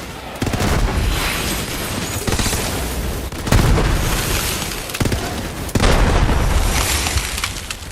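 Repeated heavy blasts and bursts of gunfire-like crackle from a Borderlands 3 firefight, loud and dense, with big booms near 0.4, 3.5 and 5.7 seconds over a constant roar of in-game chaos.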